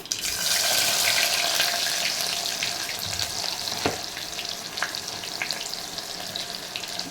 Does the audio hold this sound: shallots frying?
yes